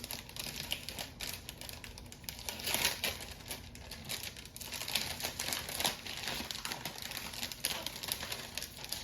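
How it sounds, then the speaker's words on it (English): Plastic wrapping being pulled off an item, irregular crinkling and crackling with sharp rustles and small tearing bursts, close by and continuous, no voices. "I have to take it out of some plastic, so apologies for the crinkling."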